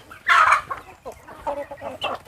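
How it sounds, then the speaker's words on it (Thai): Young roosters in a farm flock cluck and call nearby, a loud squawking burst followed by several shorter clucks in uneven succession. "นี่ไก่หนุ่มเยอะมาก"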